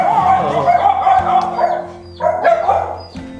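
A dog barks and yips loudly and close by, in short repeated bursts with whimpering tones, in a morning home setting.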